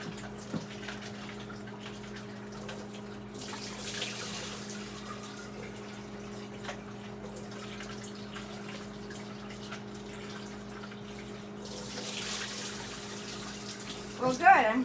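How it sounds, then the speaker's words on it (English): Rinse water strained off eggs in a kitchen sink, heard as two faint bursts of pouring and splashing over a steady low electrical hum. "Strain the water out."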